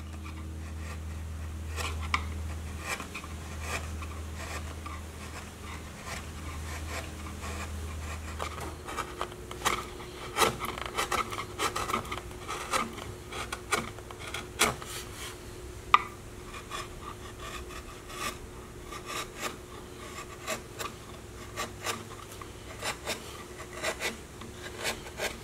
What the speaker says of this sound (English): I then carve from that line down to the previously carved area, creating a smooth transition.